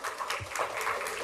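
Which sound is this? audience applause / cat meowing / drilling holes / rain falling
audience applause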